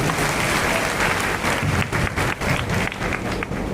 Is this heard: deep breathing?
no